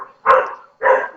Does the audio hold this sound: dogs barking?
yes